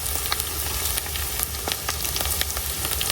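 Ground spices sizzling in a thin layer of hot oil as the base for a beef tripe curry, a steady close frying hiss with scattered pops and crackles throughout.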